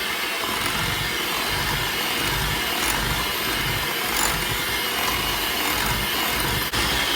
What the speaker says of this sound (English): we're going to mix all these ingredients together on medium speed until it's well combined